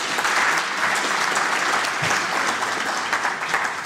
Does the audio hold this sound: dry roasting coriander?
no